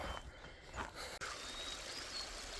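A thermal creek in Yellowstone flows down into the canyon near Seven Mile Hole, a steady, faint rushing wash of water heard at a distance with no other sounds.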